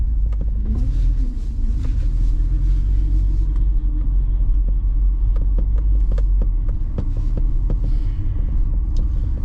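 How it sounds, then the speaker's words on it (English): An old car's engine gives a loud, steady low rumble and throb from close by. Irregular faint clicks and knocks run through it, with no talking. "These old cars make some weird sounds."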